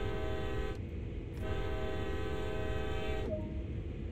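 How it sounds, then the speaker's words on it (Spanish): Freight locomotive horn in the Train Sim World game, sounding two sustained blasts, the first short and the second longer, loud over a low steady rumble of the train. "haga dos pitidos con la bocina"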